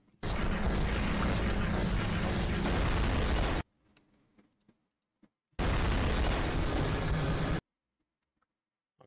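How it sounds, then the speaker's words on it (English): Animated explosions tear through buildings in a Skibidi Toilet battle scene, arriving as two long, loud roaring blasts of rumbling debris separated by a near-silent gap, with a short faint stretch of quiet crackle in between. "this is the first time they destroy buildings"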